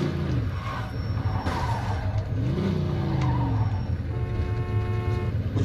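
A car in Mafia 2 driving hard with its engine revving and tires skidding and squealing, loud and close, with sweeping pitch changes as it slides and accelerates.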